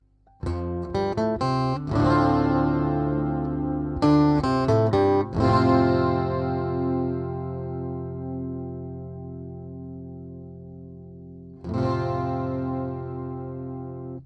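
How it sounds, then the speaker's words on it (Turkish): Chords strummed on a Washburn WD5 twelve-string dreadnought cutaway electro-acoustic guitar with no effects: a quick burst of strums, two more strummed chords left to ring and sustain for several seconds, then one final ringing chord. "şimdi size aynı sound'u bir de efeksiz dinletmek istiyorum"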